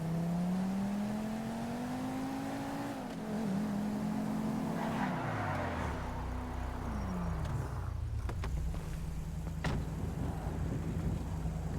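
A car in GTA 5 revs and drives, its engine tone rising and falling with shifts, tire squeal and a skid near the middle, loud and continuous with no talking.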